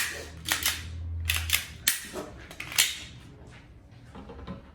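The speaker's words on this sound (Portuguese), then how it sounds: "Mas eu vou montar a arma, vou mostrar para vocês o peso da arma total." A Glock G44 .22 LR pistol being assembled, sharp metallic clicks and snaps in several quick bursts, close and loud, followed by fainter handling noise, with no talking.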